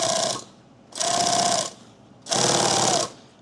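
Sewing machine stitching a zipper onto a laptop bag runs in three loud, close bursts of steady whirring, each about half a second to a second long, separated by short pauses.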